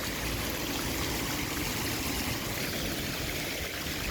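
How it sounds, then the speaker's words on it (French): Water runs in a steady, close, loud stream, a continuous rushing hiss without pauses or voices. "L'eau qui coule."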